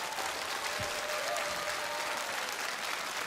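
Steady audience applause in a television singing competition final, a dense even wash of clapping that carries on throughout, moderately distant and without talk.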